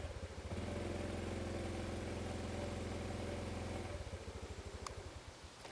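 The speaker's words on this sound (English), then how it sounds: "I'm going to start it up for you so you can get a little bit of maybe a sound test and hear" A 2023 Honda Trail 125 with its quiet stock exhaust starts up and settles into a low, even idle. The steady putter holds for a few seconds, then drops off into lighter background noise.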